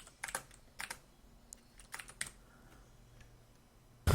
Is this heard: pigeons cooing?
no